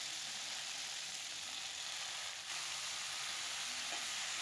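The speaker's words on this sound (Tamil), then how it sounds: "இப்போ இது கூட நம்ம க்ளீன் பண்ணி வச்சுருக்கக்கூடிய கருவேப்பிலையை சேர்த்துக்கலாம்" Curry leaves sizzle in hot oil with browned urad dal in a pan, a steady, loud crackling fry that holds evenly throughout with only a faint momentary dip.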